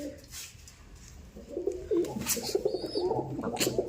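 Pigeons kept in a loft as a breeding pair give repeated soft, throaty coos that build from about halfway in, fairly close and steady over low room noise, with no talking.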